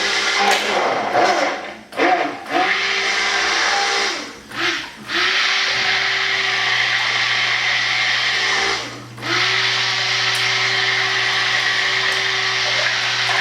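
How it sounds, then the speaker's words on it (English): A blender runs loud and close, its motor roar dipping briefly a few times as it pulses, then holding a steady whine. "So I'm going to go ahead and blend this up"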